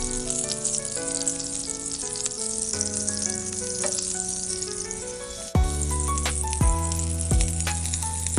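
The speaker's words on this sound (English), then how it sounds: "Now I am going to saute it on very slow flame, otherwise it is going to be burnt." Raisins sautéing in a pan over a very slow flame give a steady soft sizzle, largely buried under continuous background music, with a sharper knock partway through.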